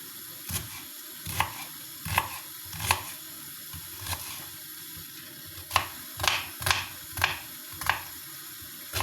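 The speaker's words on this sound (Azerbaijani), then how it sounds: "Və beləcə doğrayırıq." Repeated knife chops on a cutting board cutting tomatoes, sharp taps at an uneven rhythm, close and fairly quiet with no talking.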